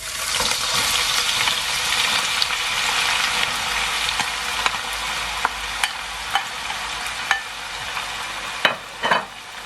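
Finely chopped onions, about two medium ones, fry and get stirred in a pot for mutton curry, giving a continuous sizzle with scraping spoon strokes and several sharp clinks toward the end.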